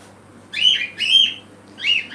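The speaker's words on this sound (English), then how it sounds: "And the birds start screaming." Indoor birds give three loud, close, shrill chirping calls in quick succession over a low steady hum, with no one talking.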